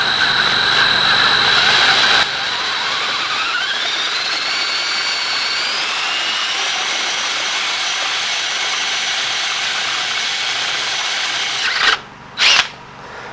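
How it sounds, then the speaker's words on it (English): A power drill bores out a broken exhaust stud on an aircooled VW cylinder head, a loud steady whine that shifts pitch as it cuts, then stops with two short bursts near the end. "So we're going to carefully drill that all the way through as straight as we can"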